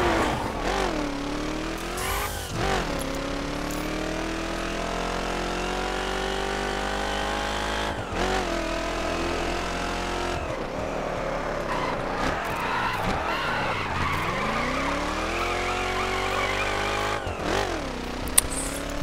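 Racing-game car likened to a 1969 Shelby GT500 accelerating hard, its engine note climbing through repeated gear shifts, with dips, skids and renewed revving over nearly twenty seconds of continuous, close, loud driving noise.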